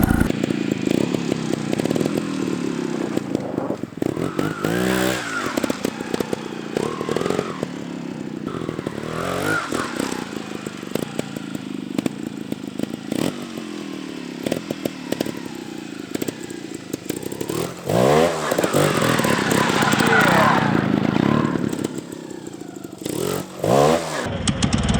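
A Gas Gas TXT 280 trials motorcycle works through practice and jumps, its two-stroke engine buzzing and revving in repeated bursts, with rising throttle blips and brief drops, loud and close throughout.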